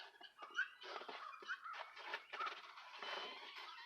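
Several chickens cluck and chatter softly at once, a faint, busy barnyard murmur with occasional higher squawks.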